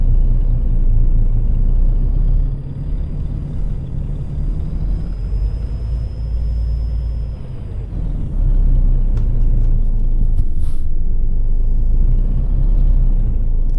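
Kenworth W900L truck engine idling in Euro Truck Simulator 2: a loud, steady low diesel rumble throughout, with a brief high hiss partway through, no voices.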